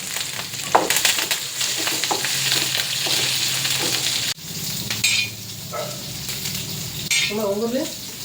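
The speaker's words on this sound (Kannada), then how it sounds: "ಸೊ ಫಸ್ಟ್ ಈಗ ಬೆಳ್ಳುಳ್ಳಿ ಹಾಕಿದ್ರು ಮತ್ತು ಕೊತ್ತಂಬರಿ, ಕರಿಪತ್ತ" Garlic, coriander and curry leaves sizzle and crackle in hot oil as a tempering for a ridge gourd stir-fry, a steady loud frying hiss with stirring scrapes and brief clinks, no talk.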